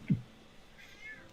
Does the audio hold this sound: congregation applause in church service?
no